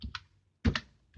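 Short bursts of typing on a computer keyboard while entering PLC instructions: a couple of keystroke clusters, a louder clack near the middle and a faint tap at the end, close and otherwise quiet.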